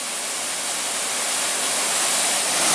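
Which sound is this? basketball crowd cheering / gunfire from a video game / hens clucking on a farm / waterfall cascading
waterfall cascading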